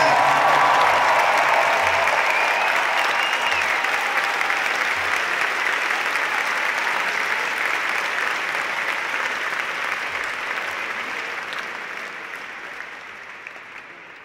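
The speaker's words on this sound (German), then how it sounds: "Lass uns unserem guten Vater im Himmel mal einen richtigen Applaus geben." A large audience applauds at a live Christian worship concert inside Cologne Cathedral, a dense, sustained wash of clapping that fills the reverberant space and slowly fades toward the end.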